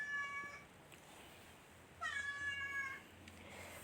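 A cat gives two drawn-out, wavering yowls, faint and somewhat distant, over a low background hiss.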